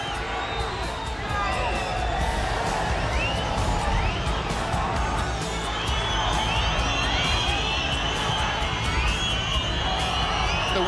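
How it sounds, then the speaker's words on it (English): A home crowd at Tallaght Stadium roars near the end of a football match between Shamrock Rovers and Sligo as it waits for the final whistle. Dense cheering, shouting and whoops carry on throughout, with commentary faint underneath. "The home crowd screaming for the final whistle"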